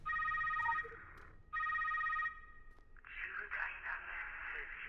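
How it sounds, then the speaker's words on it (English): A telephone in the video game Secret World Legends rings in two electronic bursts, followed by a buzzier tone, over a quiet background. "Oh, it's ringing again."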